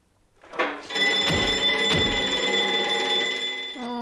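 Alarm in the 1968 film Where Eagles Dare, a loud continuous ringing bell tone sounding steadily for several seconds after a brief onset, then cutting off near the end.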